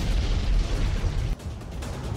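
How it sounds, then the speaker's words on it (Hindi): Russian artillery shells exploding over Ukrainian cities: a continuous loud, rumbling roar of blasts, then a sharp drop partway through before the low booming resumes at a slightly lower level. "यूक्रेन के 8 शहर इस वक्त रूसी सेना के गोलों से दहल रहे हैं"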